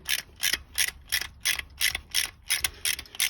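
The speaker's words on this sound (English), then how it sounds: "Let me just take off these rockers quickly." A ratchet wrench works on the rocker arms of a Chevrolet 327 V8 engine, giving a quick, even series of about ten crisp metallic clicks at close range.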